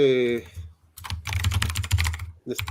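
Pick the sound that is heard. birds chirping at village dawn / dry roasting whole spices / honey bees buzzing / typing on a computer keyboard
typing on a computer keyboard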